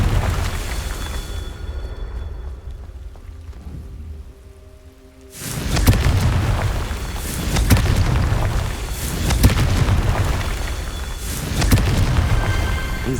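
A Confringo spell explosion in Hogwarts Legacy bursts in after a quiet stretch, loud rumbling blasts rolling on with repeated booming swells and crackle to the end.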